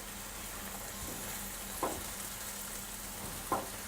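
Mushrooms and peppers sizzle gently in a frying pan as they are stirred, a soft steady frying hiss with two brief scraping clicks of the utensil, faint and without talk.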